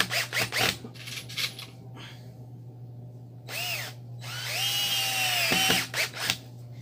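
Power drill driving two screws through the stretched edge of an old tyre, heard as several short close whirring bursts with rising and falling motor pitch, the longest run near the end, and no talk.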